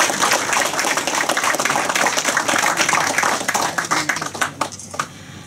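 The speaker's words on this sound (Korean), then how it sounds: "우리 이상희 전 시장 사모님께 큰 박수 한번 부탁드리겠습니다" An audience applauds at a library collection opening ceremony in Daegu: a thick, sustained wash of many hands clapping that thins into scattered claps as it fades.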